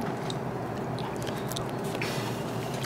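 Crunchy chewing of fried frog close to the mouth, a run of crisp, irregular bites and crackles over a low background hum, with no talking.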